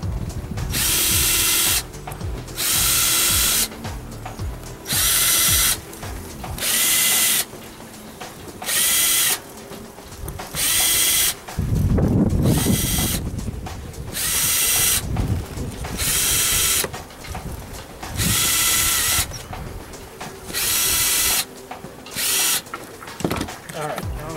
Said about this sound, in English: I can drill all the way through it